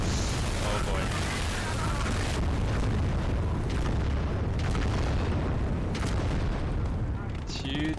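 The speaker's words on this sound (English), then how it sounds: "Huge explosions" Heavy booming blasts from tank combat in the WWII strategy game Gates of Hell roll over a dense rumbling battle din, with several sharp bursts and someone talking throughout.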